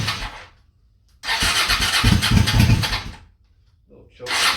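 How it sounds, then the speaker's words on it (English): A Honda Shadow motorcycle engine with new spark plugs is cold-started, with a loud roaring burst of cranking and firing lasting about two seconds, a near-silent pause, then another burst starting at the end. "we're going to try to give this thing a cold start with the new spark plugs"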